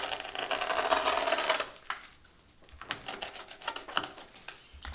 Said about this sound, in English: then you just cut it at the 20-inch line